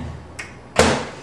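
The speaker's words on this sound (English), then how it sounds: "shut the microwave." A microwave door in a home kitchen pushed shut: a faint click followed by a sharp, loud latching thud, close up and alone.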